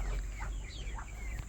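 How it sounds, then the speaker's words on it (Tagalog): Chickens and turkeys clucking and calling at a farm feeding spot, with several soft, scattered clucks and chirps over a steady low outdoor rumble. "Saka itong mga manok, pabo."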